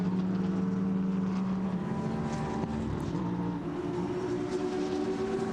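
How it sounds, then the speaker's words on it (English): A Porsche race car at full speed during the 2010 Nürburgring 24 Hours, its engine a steady loud drone with a sustained pitch shift as it pushes hard, continuous for several seconds without any talk. "there is that Porsche really pushing hard"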